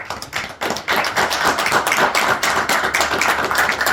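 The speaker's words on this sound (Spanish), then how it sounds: "ahí los aplausos para ambos" Audience applause at an agricultural journalists' meeting after a talk, a dense sustained patter of many hands clapping close and steady, with no voices.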